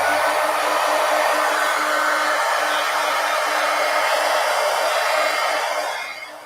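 A hair dryer blows on wet paint on a piece of artwork, a loud, steady, close whoosh that runs continuously and then winds down at the end.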